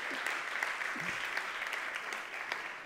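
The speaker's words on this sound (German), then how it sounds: "Erstmal den Applaus," An audience applauds at the opening event of a digital education conference, producing a short, dense wash of clapping that stays fairly even and moderately loud throughout.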